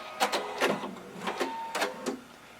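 A sewing machine runs in short backstitching bursts on a jumpsuit seam, giving a series of quick mechanical whirring chatters separated by brief pauses, close and fairly quiet, with no speech.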